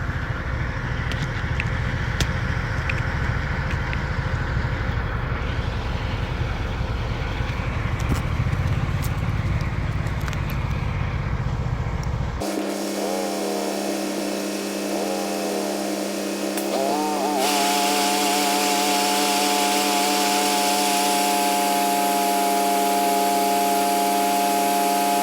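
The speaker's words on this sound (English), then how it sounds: "So I'm just going to start up the auger here and get loaded." Grain auger running while loading a three-hopper tridem trailer, heard as a steady mechanical drone with a constant hum and shifting whine that changes character partway through, continuous and fairly loud with no talk.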